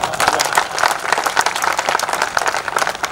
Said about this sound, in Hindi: एक बार अपनी तालियों का ध्वनि तो बढ़ाइएगा